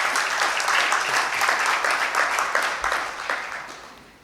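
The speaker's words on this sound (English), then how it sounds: "A round of applause." Audience applause at an international arbitration and ADR conference in Kenya, a steady dense wash of clapping from a large hall that fades out toward the end.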